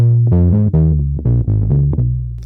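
A thumb-plucked bass guitar through a fuzz pedal plays a loud, warm, gritty line of several rounded notes with soft attacks, with no other sound, settling on a held final note.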